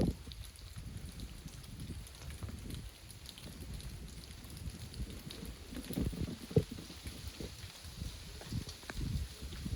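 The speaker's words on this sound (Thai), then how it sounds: "วันนี้อากาศดีพี่น้องมันลมได้เหมือนลมพัด" Wind gusting across the mouth of a hillside cave at Ban Muang Kham, Na Tan subdistrict: a steady, low buffeting rumble that runs continuously throughout, with a few sharper thumps against the microphone.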